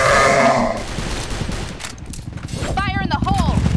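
A flash bomb grenade goes off in the shooter game CrossFire as a loud broadband burst at the start, then fades into busy game noise with voice-like tones.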